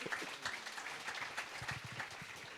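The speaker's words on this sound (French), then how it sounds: "Vous pouvez applaudir." Audience applause at a talk with a film director, dense steady clapping at moderate distance throughout, with no voices over it.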